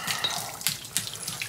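Water gushes and splashes steadily from the opened drain plug of a Suburban RV water heater, a close, continuous trickling and spattering with no voices.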